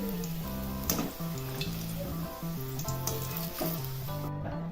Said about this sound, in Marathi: अजून आणि थोडासा काढल्यावर गोल्डन असा होतोय तो